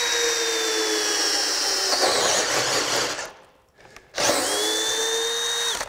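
A Craftsman V20 brushless 1/2-inch hammer drill driver on a 9 amp hour battery bores into knotty wood with a bore bit, a loud steady whine that bogs and briefly cuts out, then spins back up.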